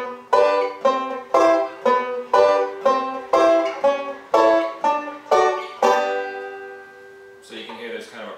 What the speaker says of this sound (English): So vamping is a way for banjo players to accompany other musicians.